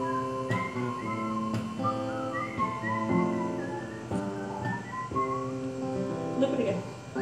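A person whistles a sustained song melody with clear, steady notes, close and fairly loud, in a group performance setting with faint background voices underneath.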